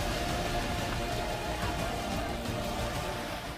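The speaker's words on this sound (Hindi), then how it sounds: "भरूच की तस्वीरें भी देखिए, जहां मूसलाधार बारिश ने जिंदगी की रफ्तार पर ब्रेक लगा दी।" Heavy downpour in Bharuch, a steady, loud wash of rain hissing evenly on surfaces throughout with no pauses and no voices.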